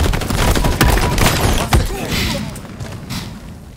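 Grenades go off in the Halo Infinite multiplayer game amid a burst of gunfire, loud thumping blasts up front that fade into a quieter tail.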